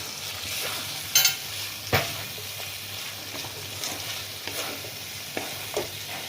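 Oil sizzles steadily as pointed gourd fries with spices, with a few sharp clinks and scraping stirs of a spoon against the pan.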